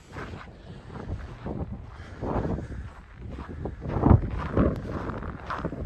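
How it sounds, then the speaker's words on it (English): Wind swirling around a building in extreme cold in Regina in December, steady blustery rumble on the microphone with stronger gusts near the end, no talking. "There's always a bit of wind around this building here."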